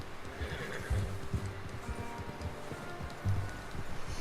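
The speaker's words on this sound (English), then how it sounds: "How's that new horse?" A horse in the video game Red Dead Redemption 2 neighs and whinnies in a few close, breathy bursts, with soft hoof movement and rustling in the background.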